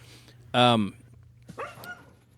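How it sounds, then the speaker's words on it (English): A dog barks in a home setting, one loud, close, strained bark followed a second later by a weaker, shorter yelp, over a steady low hum. "I hear the dog barking, but where's the dog?"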